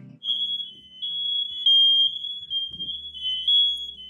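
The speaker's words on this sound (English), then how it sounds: "That pesky smoke alarm is at it again." A smoke alarm sounds a loud, continuous high-pitched tone close by, with faint clatter and movement underneath.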